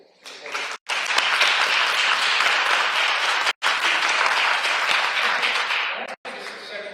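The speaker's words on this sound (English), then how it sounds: "how about a big round of applause" A crowd at a service dog class graduation applauds loudly and continuously, dense clapping that fills the space, broken by a couple of abrupt cuts.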